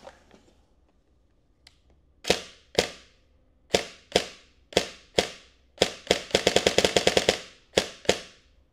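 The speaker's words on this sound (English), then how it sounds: "you can actually hear the spring twang and not the other noise." A gun with helical gears dry firing indoors, sharp metallic clicks with a ringing spring twang decaying after each; a few single snaps, then a rapid burst, close and loud.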